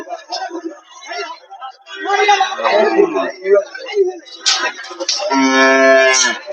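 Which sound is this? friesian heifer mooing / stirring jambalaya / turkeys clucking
friesian heifer mooing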